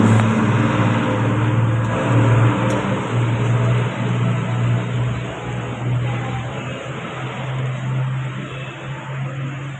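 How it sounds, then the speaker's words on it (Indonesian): Motorcycle engine with a VVA system running steadily after being started during a repair check, a constant idle hum with a slight rise in revs, no talking. "nyalakan motor."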